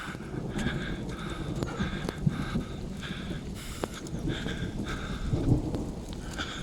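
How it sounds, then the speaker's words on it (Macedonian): Steady rain falls throughout near a village church, with low rumbling thunder rolling underneath and a couple of brief louder cracks; no one speaks. "Грми."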